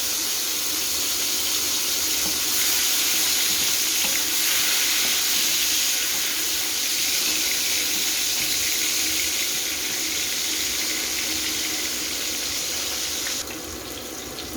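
Green onions with green chili and leftover sauce fry in a pan, giving a loud, steady sizzle that runs unbroken for the full length and eases slightly at the very end.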